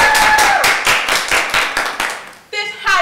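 A welcoming crowd in New York City claps for Marie Curie with quick, uneven handclaps, close and fairly loud, while voices call out at the start and again near the end.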